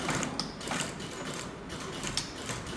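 A sewing machine runs steadily, stitching a U-shape along the upper edge of a flapped back trouser pocket, a continuous close mechanical whir with fine rapid clatter and no talk.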